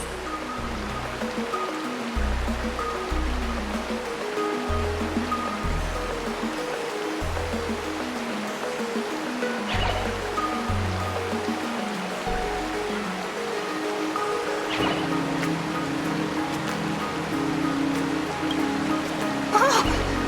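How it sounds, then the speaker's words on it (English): Water gushing and splashing in Honkai: Star Rail, a steady rushing stream-like wash that runs without a break under game music. "water just started gushing out everywhere"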